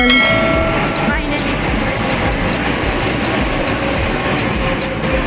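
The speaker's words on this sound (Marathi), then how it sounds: "मुंबईवरून पकडली लोकल" Loud rumble of a moving Mumbai local train with dense rattling wheels and clatter, steady throughout, a few faint tonal squeals near the start.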